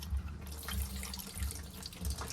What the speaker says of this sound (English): bucket of water, that's 100ml syringe. Up there, just put that in there, just squirt it through.